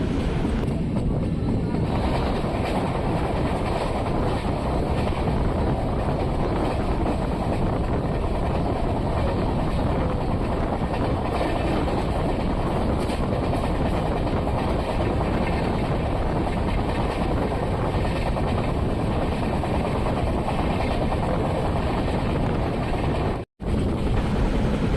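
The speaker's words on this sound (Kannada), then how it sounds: "ಇದು ಹೊಸಪೇಟೆಯಿಂದ CSMTಗೆ ಬರೋ ಸೂಪರ್ ಫಾಸ್ಟ್ ಎಕ್ಸ್ಪ್ರೆಸ್ಸು" A superfast express train from Hosapete to Mumbai CSMT rumbles steadily from on board, a continuous loud roar of wheels and carriages throughout, with one brief dropout near the end.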